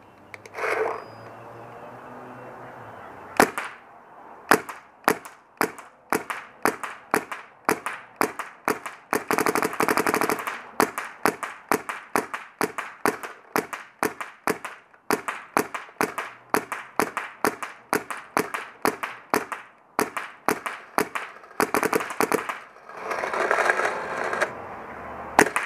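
A paintball marker fires Draxxus Gold tournament paintballs in rapid sharp pops, first a few single shots, then long fast strings with short pauses between bursts; no one speaks.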